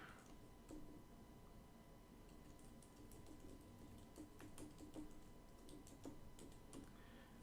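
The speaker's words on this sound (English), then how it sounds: "Typing it out." Soft computer-keyboard typing patters along in light, irregular clicks, very faint and close over a low steady hum, with no voices.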